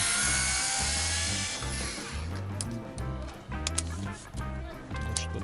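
Self-tapping screws are being removed with a screwdriver, giving a close, buzzing whir in short, repeated bursts with brief pauses between them.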